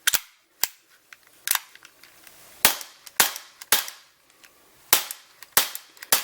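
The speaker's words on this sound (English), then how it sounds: "Let's check out the Makarov blowback." A Makarov blowback airgun fired with no BBs loaded, giving about eight sharp, close, loud cracks at irregular intervals with faint mechanical clicks between them.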